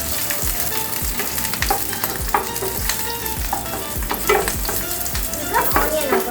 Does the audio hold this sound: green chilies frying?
yes